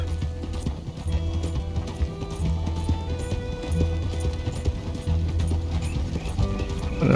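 Steady clip-clop of four trotting horses pulling a carriage in Red Dead Redemption 2, over a dense, continuous rumble of wheels and game sound effects, moderately loud throughout.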